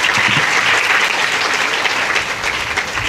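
Steady, dense clapping from a large audience at a Hindu religious discourse, loud and continuous throughout with no pause.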